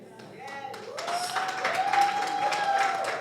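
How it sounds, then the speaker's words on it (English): An audience at a public speaking class graduation claps for their professor, the applause swelling and holding steady while a voice carries over it and a sustained tone runs through. "That's why they're clapping for him."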